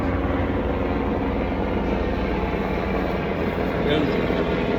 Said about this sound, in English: That's the U.S. Army flying over.